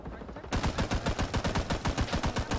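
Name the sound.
gunfire in video game Rising Storm 2: Vietnam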